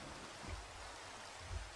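Rainfall in Minecraft, a dense, even hiss of rain with soft low thumps, steady and alone without speech.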